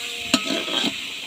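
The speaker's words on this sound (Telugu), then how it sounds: "ఇదిగోండి ఇలా దాంట్లో ఉన్న వాటర్ అంతా పోయి బాగా ఫ్రై అయిపోవాలి" Mutton with coriander and mint frying in a pot for mutton biryani, a steady close sizzle broken by a few sharp scraping stir clinks at the start and midway.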